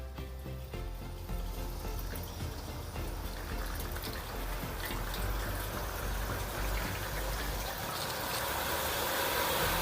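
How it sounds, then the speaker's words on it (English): Rainwater steadily draining and trickling from a louvered pergola (Takasho Mirador 111S) nearby, a continuous splashing patter that grows a little louder toward the end. "I can hear the water draining."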